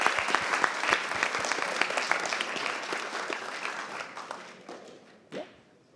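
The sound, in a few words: audience applause for hackathon winners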